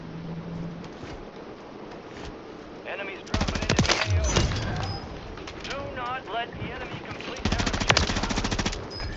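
Automatic gunfire in the video game Warzone 3 Plunder mode, with loud bursts of rapid shots in two main volleys and scattered single shots, while players talk over the game sound.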